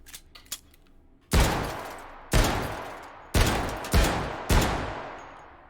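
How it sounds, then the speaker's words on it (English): Five loud, close gunshots fire at a door lock in the VR shooting game H3VR, spaced roughly a second apart, each with a sharp crack and a decaying tail, preceded by faint clicks of handling. "I'm shooting the lock. I'm not shooting the hardware in between."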